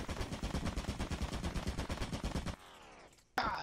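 Rapid turret gunfire in a Roblox game, a fast steady stream of loud shots for over two seconds, then a ringing tail and a sharp final burst.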